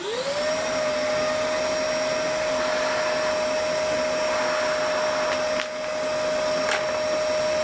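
A Milwaukee M18 Fuel 6-gallon wet dry vacuum on speed level 2 runs as a loud, steady motor whine with a rising start-up tone, and faint brief rattles of rocks being sucked up.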